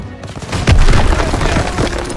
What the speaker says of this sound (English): On a German rocket launcher.